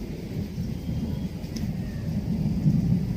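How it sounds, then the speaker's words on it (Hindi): Heavy monsoon-style downpour with thunder, a dense, steady roar of rain close by and a deep rumble rolling underneath throughout, loud and unbroken, with no voices. "और बहुत अच्छी बारिश हो रही है।"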